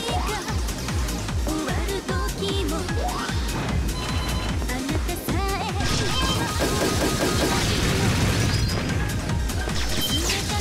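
Grenade explosions and gunfire in the video game Azure Striker Gunvolt, a busy stream of crashes, booms and sharp hits layered over game music, loud and constant with no pause.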